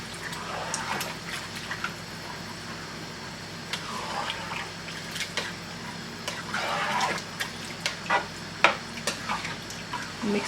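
Water runs into chana dal in a cooking pot, a light trickling and splashing with intermittent louder pours and stirring clinks, fairly close and uneven in rhythm.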